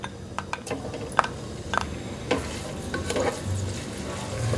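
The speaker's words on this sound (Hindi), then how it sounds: "तेज़ आंच पे मैं इसको फ्राई करूँगी" Onions frying in oil over high heat in a pan, a loud close sizzle with scattered ticks and stirring scrapes throughout.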